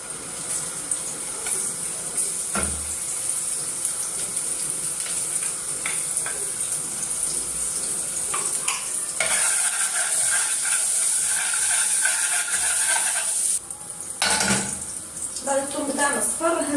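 Minced garlic sizzling in hot oil in a pan on the stove, a steady close hiss and crackle that runs throughout with brief clinks and stirring noises mixed in.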